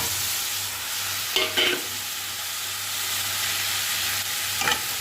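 Boal fish slid into hot oil for a spicy Bengali curry gives a steady, close sizzling hiss, broken by a few brief louder crackling bursts as the pieces hit the pan.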